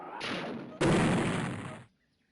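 A weapon fires in the game Worms Armageddon Anniversary Edition: a loud noisy blast that swells into a second, louder burst and rumbles on for about a second before cutting off.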